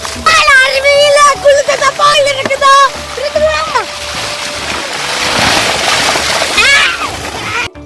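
Water splashes and sloshes as people bathe under a village pump set, heard close and loud beneath voices and a child singing and calling out.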